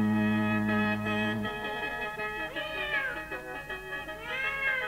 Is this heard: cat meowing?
yes